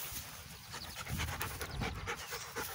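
A dog pants rapidly and steadily up close on an outdoor walk, breathy rhythmic huffs continuing throughout with no talking.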